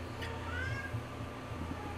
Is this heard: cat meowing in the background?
yes